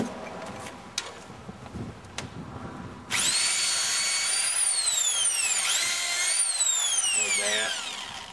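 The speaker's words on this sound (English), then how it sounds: "I'm just going to drill and put a few screws in the wood" A power drill drives screws into wood on a pallet. A few knocks and faint talk come first, then a loud, steady drill whine rises and falls in pitch as it runs close by for several seconds.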